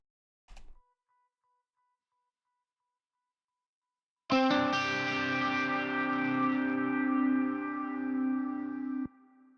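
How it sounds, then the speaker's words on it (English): Electric guitar parts played on keyboards for a Christmas song production: a brief click, then a loud sustained distorted chord with shimmering echo and reverb that rings for about five seconds before cutting off abruptly. "That's the sound of the electric guitars."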